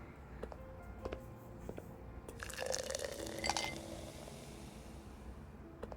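Apple juice poured into a glass in the game Love and Deepspace. A short, soft trickle of liquid with faint drips and a light glassy ring, quiet against a muted room backdrop.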